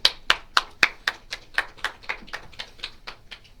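Applause greeting a guest speaker at an alumni speaker series event: a small audience claps in a steady rhythm of distinct, separate claps, close and fairly loud, thinning slightly toward the end, with no talk.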